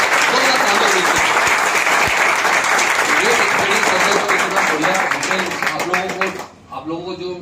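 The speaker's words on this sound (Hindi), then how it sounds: "बहुत जोरदार तालियां होनी चाहिए सर, जोरदार तालियां होनी चाहिए।" A crowd at a welcome meeting claps loudly and continuously, dense applause that fades near the end into a voice speaking.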